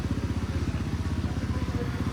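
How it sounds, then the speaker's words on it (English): Racing motorcycle engine running during an 8-hour endurance race, a steady rapid pulsing drone heard at a distance and fairly faint, with no talking. "the engine's running"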